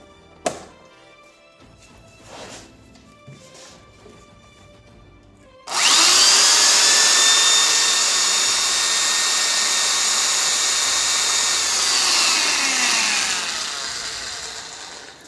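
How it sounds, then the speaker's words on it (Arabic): An electric drill powered from a UPS whirs loudly and steadily for several seconds after a few sharp clicks and knocks, then winds down slightly at the end. "هنركب دلوقتي شنيور"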